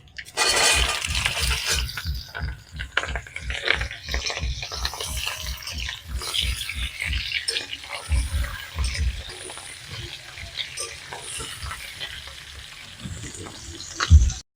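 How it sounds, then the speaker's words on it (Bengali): Boiled olives for a sweet-sour-spicy Bengali olive pickle hit a hot pan, with steady frying sizzle and rhythmic stirring scrapes repeating throughout, close and fairly loud, with no talking. "একটু নেড়ে চেড়ে নিয়ে দিয়ে দেব আমি সেদ্ধ করা জলপাই।"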